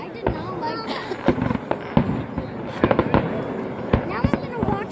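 Fireworks going off in a rapid string of sharp bangs and crackles, some close and loud, others fainter, with people talking and reacting between the bursts.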